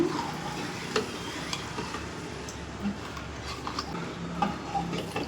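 A spoon stirs thin rava dosa batter in a bowl, giving a soft continuous wet swishing with faint clicks of the utensil against the sides, close and steady with no talk.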